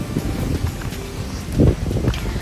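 Wind buffets the microphone at a hill station resort in Munnar, a low rumbling gusty roar with a stronger swell midway, close and fairly loud, no voices.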